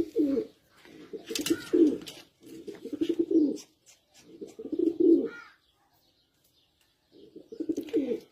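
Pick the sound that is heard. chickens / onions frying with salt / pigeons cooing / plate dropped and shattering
pigeons cooing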